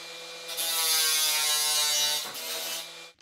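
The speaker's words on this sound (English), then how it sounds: "the screws are going to stick out a little bit on the back, so I'll cut those off with the grinder" A grinder cuts off protruding screw ends on the back of a wooden box, giving a loud, high whine that runs about three seconds with a brief dip near the end and no talking.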